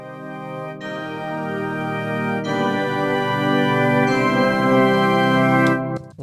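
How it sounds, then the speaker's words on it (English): An Omnisphere organ-type preset plays sustained chords with steady harmonic tones, the level swelling gradually louder under MIDI expression control before cutting off near the end, with no talking. "here I'm using Omnisphere, this organ type preset here"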